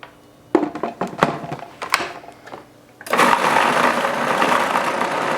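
Blender pureeing garlic with a little lemon juice: after scattered clunks and taps, the motor kicks in loudly and whirs steadily, close up.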